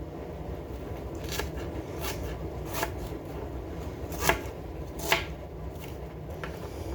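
A knife chops onions on a board for cooking adobo, giving a string of crisp, close cuts at an uneven pace, two landing noticeably harder, over a steady room hum with no talk.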